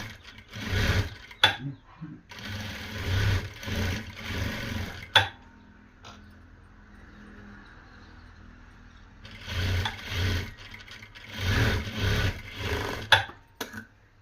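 A sewing machine runs double stitching on a four-tuck blouse in repeated bursts of close, steady whirring, pausing in the middle with a faint hum, then starting again.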